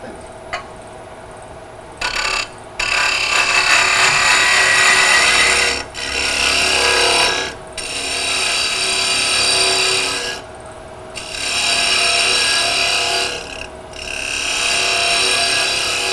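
A wood lathe spins a ring bowl at about 2,000 rpm while a tool cuts, giving a close, steady whir with repeated rasping scrapes that swell in long passes and briefly drop out between cuts.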